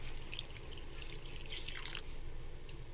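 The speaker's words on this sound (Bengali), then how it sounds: "জলটা দিয়ে দিচ্ছি" Water being added to a pot of cooking in a home kitchen: a short, soft splashing trickle with faint drips over a low background hum.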